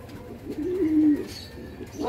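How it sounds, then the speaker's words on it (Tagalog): A pet pigeon on a hot rooftop deck gives a single low, rolling coo, close and clear against a quiet background. "Yan mga kalapating"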